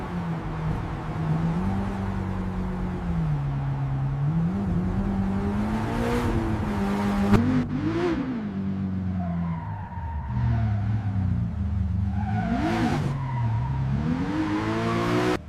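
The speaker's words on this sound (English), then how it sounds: "V8 engine revs intensely, ensuring optimal lubrication under extreme load." A Porsche 918 Spyder's V8 engine roars steadily, its pitch rising and falling through repeated intense revs and gear changes, with brief sharper bursts and a tire-like squeal near the middle.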